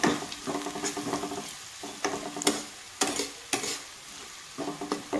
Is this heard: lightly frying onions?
yes